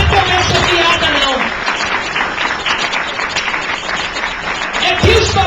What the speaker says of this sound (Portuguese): Aplauda com vontade